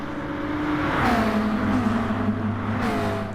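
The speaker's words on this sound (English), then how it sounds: "Pulling alongside the McLaren down the main straight towards turn 1." GT3 race cars at Suzuka in a racing video game run down the main straight toward turn 1, giving a steady, loud engine drone with rising whining tones as they accelerate side by side.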